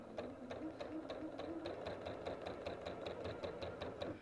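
A sewing machine stitching quilt fabric runs steadily at close range, its needle tapping in a fast, even rhythm over a low motor hum, fairly quiet and without speech.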